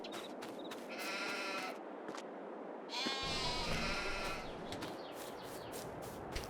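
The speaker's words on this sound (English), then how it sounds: "Let's drop off a bunch more sheep." Sheep in Farming Simulator 22 on the Angel Mountain map bleat repeatedly, several overlapping calls coming in bursts over a steady farm ambience, moderately close and fairly loud, with no talking.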